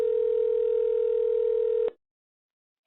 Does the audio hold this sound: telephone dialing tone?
yes